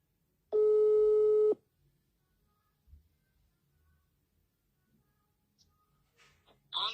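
A single loud, steady electronic telephone tone sounds for about a second, followed by near silence with faint scattered noises and a brief burst of voices at the end.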